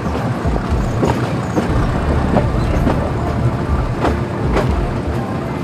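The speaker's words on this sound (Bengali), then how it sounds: "ট্রেন সামনের দিকে যাচ্ছে কিন্তু প্রচণ্ড ধীর গতিতে" A train rolls very slowly forward with a loud, constant low rumble and faint irregular clicks of the wheels over the track, heard close from inside the carriage.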